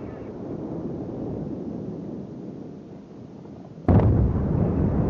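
A warship in a naval video game fires a sudden heavy gun salvo, a loud booming burst near the end that breaks over a steady low rumble of engine and wind.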